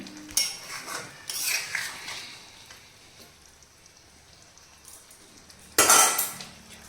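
A cooking pot being covered, a few loud close metallic clatters and scrapes with a quiet stretch between them and a final louder clang, no voices.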